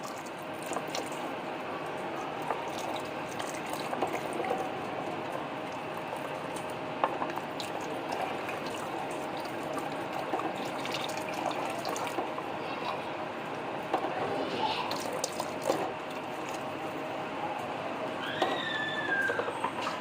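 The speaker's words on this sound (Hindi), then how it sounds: "ये देखिए माशाल्लाह यखनी में बॉयल आ चुका है।" Chicken yakhni soup at a rolling boil in a pot, a steady bubbling and simmering hiss with occasional soft pops, close and continuous with no voices.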